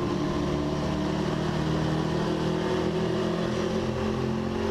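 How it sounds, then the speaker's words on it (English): A race car engine drones steadily at close range, a dense low-pitched roar with layered harmonics that holds fairly even, shifting only slightly as the throttle eases off, with no voices. "you can hear where I'm full throttle, then I'm like half throttle, and then a quarter,"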